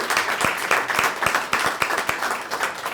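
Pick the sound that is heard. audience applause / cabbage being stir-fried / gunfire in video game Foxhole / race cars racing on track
audience applause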